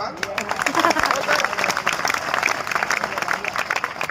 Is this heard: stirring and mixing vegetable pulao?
no